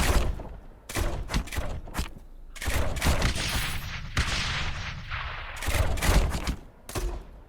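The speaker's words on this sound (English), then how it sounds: "The mortars in particular are able to do that area effect damage to them." Mortar towers firing in the tower-defense game Rogue Tower: repeated heavy booming blasts and sharp bursts in irregular clusters, some overlapping into a sustained barrage, loud and close with no speech.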